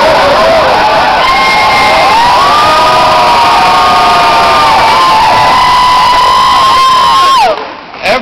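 A big crowd cheers and shouts loudly and continuously inside an airport hangar at a Mike Huckabee political rally, with sustained whoops, then the roar cuts off suddenly near the end.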